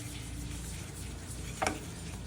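Jaggery melts in ghee in a pan, a soft low sizzle under faint stirring with one brief clink of the spoon against the pan.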